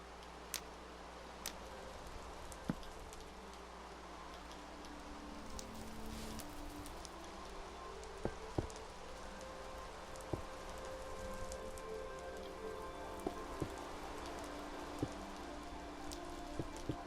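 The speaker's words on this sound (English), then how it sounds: "I do enjoy the fact just hearing the sound of the rain and stuff." Rain falling in the Minecraft video game, a quiet steady patter with scattered sharper drop ticks, faint and even throughout with no voices.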